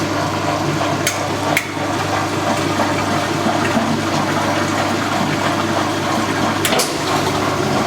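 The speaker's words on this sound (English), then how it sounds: "Because both machines are draining." Two washing machines, a Whirlpool and a Maytag, draining water after washing loads of sheets; a steady, continuous rush of water with a low pump hum, fairly loud, with a couple of brief clicks and no talking.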